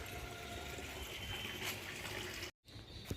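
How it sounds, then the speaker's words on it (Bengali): Potted lemon plants being watered until the soil soaks, a steady hiss and splash of running water, continuous and fairly near, cut by a brief silent gap near the end. "চলো পুরো গাছগুলোকে ভালো করে, গাছের মাটিগুলো আর কি ভিজিয়ে দিই।"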